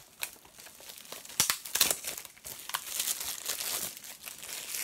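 Plastic film is peeled and crinkled off a Blu-ray case, giving close, quiet crackling and rustling with a few sharper tearing bursts.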